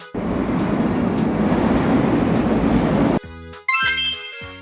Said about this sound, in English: A subway train travels deep in tunnels under the city.